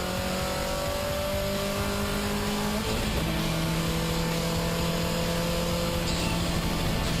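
Turbocharged race cars, including a G35, battle on a racing circuit with loud sustained engine drones whose pitch shifts as they shift gears and accelerate, overlapping steadily without pause.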